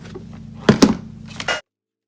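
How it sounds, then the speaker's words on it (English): A heat tool blows a steady, close motor hum over Whisper White embossing powder on a card, with a couple of soft knocks midway before it cuts off abruptly. "we're going to then heat it with the heat tool, and that's just going to melt that powder"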